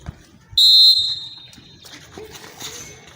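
A referee's whistle at a football training session gives one sharp, loud, piercing blast of about half a second that trails off into the noise of the field and distant voices.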